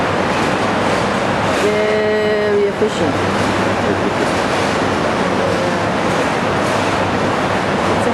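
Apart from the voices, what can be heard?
train passing by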